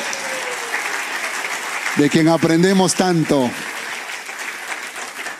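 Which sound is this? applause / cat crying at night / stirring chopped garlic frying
applause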